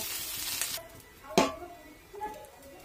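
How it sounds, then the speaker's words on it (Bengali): Soya chunks frying deep red in a pan: a steady broadband sizzle fills the first moments, then eases, broken by a sharp clatter of stirring and a few fainter scrapes, close and without talk. "আমার কিন্তু সোয়াবিন পুরো লাল লাল করে ভাজা হয়ে গেছে।"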